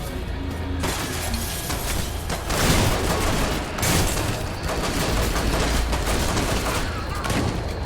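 Rapid gunfire in a video game, likely pistol shots, with dense repeated cracks and impacts over nearly eight seconds, including a loud stretch midway, fairly close and continuous, without talk.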